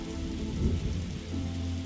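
Steady rain drums in the video game The Darkside Detective, a dense and continuous downpour with low rumbling underneath and no voices.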